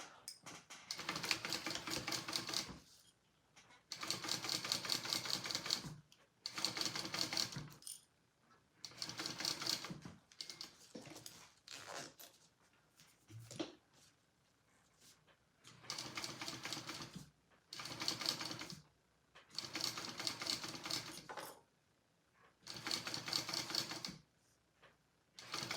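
A sewing machine stitches a zipper and lining in bursts of rapid mechanical whirring, each run a few seconds long, separated by short pauses, fairly faint.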